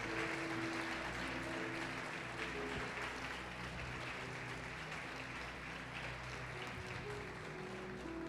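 A church congregation applauding during a sermon, a steady wash of many hands clapping that continues evenly for about eight seconds, fairly faint and heard from within the room.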